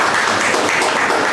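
Loud, dense applause from an audience at a Lions club food distribution event, a continuous roar of many hands clapping close by.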